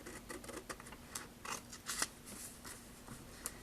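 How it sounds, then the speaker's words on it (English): Paper being cut with scissors all the way to the edge, a faint run of short crisp snips and rustles alone, with no talk. "I am just going to cut all the way to the edge."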